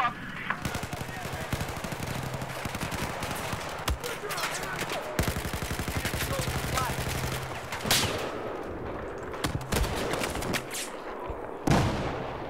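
Bursts of automatic gunfire in the Battlefield 4 multiplayer DLC Dragon's Teeth, Pearl Market map, rattle in rapid runs with a few louder single shots, under near-constant game noise and players talking.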